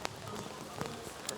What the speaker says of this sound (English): when the rain is coming down